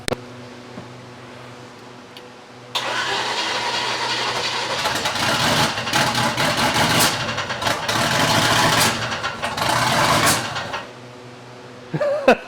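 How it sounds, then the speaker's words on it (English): A turbocharged engine with an unsealed throttle body sits quiet at first, then bursts into a loud, rough run as throttle is applied. It surges and fluctuates for several seconds, then drops back, with brief noises at the end. "It sounds crazy when it spools up so fast."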